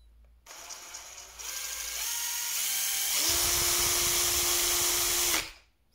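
A Parkside PABS 20-Li D5 brushed cordless drill on speed setting 2 revs up in stages to a loud, steady high-pitched whir, runs for a couple of seconds, then stops abruptly.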